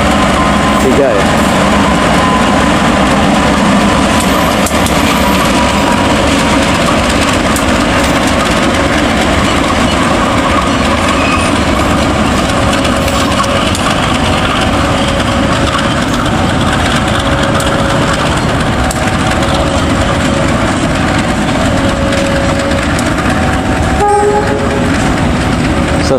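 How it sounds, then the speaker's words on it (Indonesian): Mutiara Selatan passenger train entering Rancaekek station on track 3, a loud, sustained rumble and clatter of rolling wagons passing close by, with a horn blast near the end and someone talking over it. "Setelah itu akan masuk kereta api Mutiara Selatan, masuk di jalur 3 ya."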